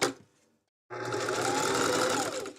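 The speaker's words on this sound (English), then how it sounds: "I am trying to remember not to talk while I'm sewing, like actually have the sewing machine going" A sewing machine starts up after a short pause and runs steadily, a close, even mechanical whir and rapid stitching hum held for about two seconds.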